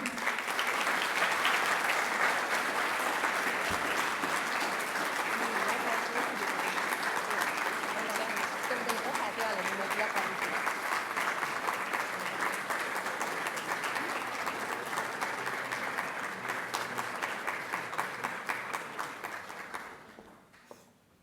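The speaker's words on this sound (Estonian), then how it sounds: "Suur aplaus Annelile ja Raimole." Long, steady applause from an audience at a school Christmas ceremony, dense clapping holding for nearly twenty seconds before tapering off at the end.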